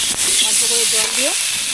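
A splash of water hits turmeric and chilli paste frying for a Bengali silver carp curry, raising a loud, continuous steamy hiss through the short moment.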